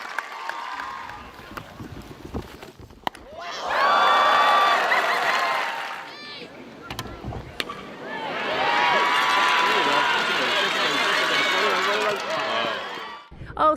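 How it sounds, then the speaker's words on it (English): Crowd applause and cheering at a ceremony honoring athlete Jada Lee with the King Charles III Coronation Medal, rising in two loud, sustained swells of clapping and raised voices separated by a brief lull. "Let's give a huge round of applause to Jada Lee."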